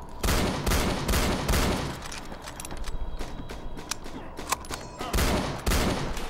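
Video game gunfire rattles in dense, loud bursts of rapid shots, pausing briefly and then resuming, with no talk.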